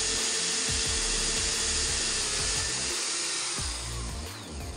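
An ibell electric screwdriver drills into wood with a loud, close, high-pitched whine that holds steady for several seconds and winds down slightly at the end, no talking.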